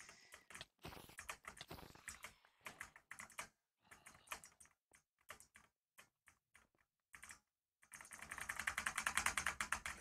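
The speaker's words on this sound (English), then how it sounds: "Why is my keyboard so loud?" Fast, uneven clatter of typing on a loud computer keyboard, close up, with clear pauses between bursts and a denser, louder run of keystrokes near the end.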